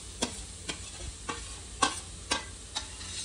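Onions frying golden brown in a pan, a low sizzle under six sharp, evenly spaced scrapes of a spatula stirring, close up with no speech.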